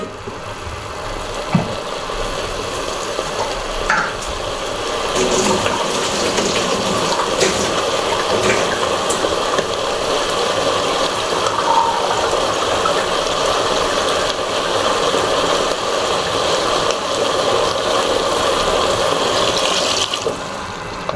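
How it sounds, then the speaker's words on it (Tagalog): Water pours steadily into a pan of eggplant and sardines, a continuous gushing stream lasting many seconds at a fairly even, moderate loudness, with no talking. "So, lagay tayong tubig."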